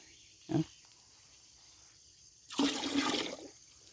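Liquid fertilizer is poured onto a durian tree. A brief splash comes first, then after a pause a louder gushing pour lasts about a second before fading, all close against a quiet outdoor background.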